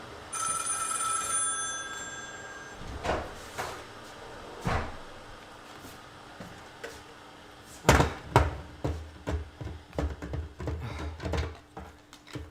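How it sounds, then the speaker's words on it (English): An incoming call rings on a telephone in a home, a repeated electronic tone in the opening seconds, followed by clattering knocks and handling noises. "I got a phone call coming in."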